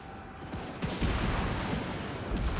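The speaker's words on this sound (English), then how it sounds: "I'm going to get several volleys with these gunners." Gunner volleys in Total War Warhammer 3, a dense crackle of many shots fired together, with a sharper burst about a second in and a rolling rumble of gunfire throughout.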